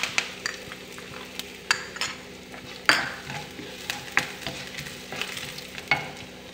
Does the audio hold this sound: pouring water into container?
no